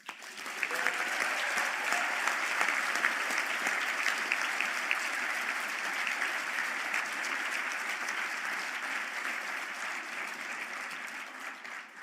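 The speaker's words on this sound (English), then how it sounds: "we might give one more round of applause for that." Graduation crowd at a Galway conferring ceremony breaks into sustained, full applause in a large hall, staying loud and steady for about twelve seconds before easing slightly near the end.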